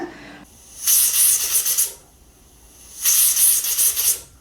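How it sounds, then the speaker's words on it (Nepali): Pressure cooker on a stove, cooking mutton with bottle gourd, releasing steam in two loud hissing whistle bursts of about a second each, separated by a quieter gap, with no talking. "कुकरमा 2 सिटी लागिसकेको छ"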